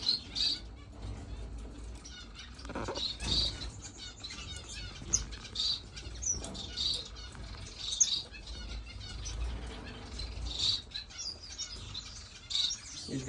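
Starfinches in an indoor bird room give repeated high, thin chirps and tweets, scattered irregularly over a soft background of rustling and faint movement, with occasional wing flutters.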